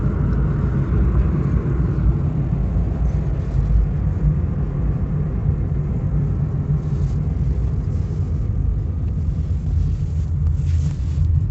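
A vehicle's steady low engine rumble and road noise carry on continuously while riding inside it, with no voices heard.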